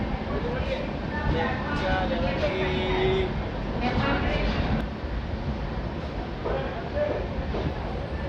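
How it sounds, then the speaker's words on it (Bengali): Inside the Jan Shatabdi Express, just after it pulls out of the station, a continuous rumbling roar of wheels and carriage fills the space, with murmuring voices mixed in. "ট্রেন সবে ছেড়েছে"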